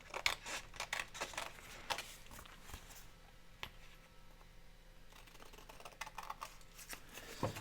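Scissors snip through a junk mail envelope during paper trimming, giving a run of crisp, close cutting clicks and rustles with brief pauses between strokes.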